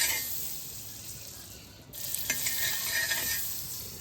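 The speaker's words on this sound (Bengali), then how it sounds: "বাটারটাকে দিয়ে আপনি এটা এক পিসটা একটু হালকা ভেজে নেব" A piece of paneer fries in a little butter for a kathi roll. A continuous hissing sizzle swells after a brief dip, with a couple of scraping touches in the pan and no talking.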